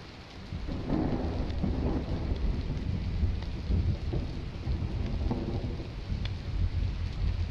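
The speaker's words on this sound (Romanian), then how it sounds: "Vine ploaia, vine ploaia iară." Steady rain pours with deep rolling thunder rumbling throughout in the video game Solitude, a continuous stormy wash with no voices.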